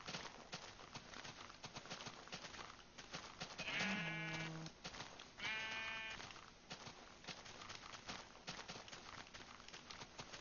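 Sheep in the Minecraft video game bleating twice in short wavering calls, set against steady clip-clop footstep sounds that run throughout, moderately loud.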